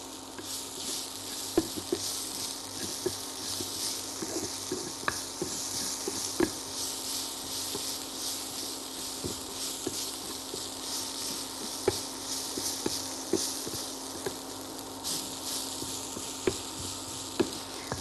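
Fenugreek leaves sauté in oil in a pan, a faint, continuous hiss and crackle with scattered soft ticks and stirring taps throughout, quiet and steady.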